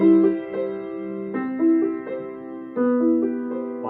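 Melody played rubato on a plucked or keyed instrument, notes stretching and hurrying unevenly so the tempo drifts slower and faster, close and clear with lingering tones and no voices.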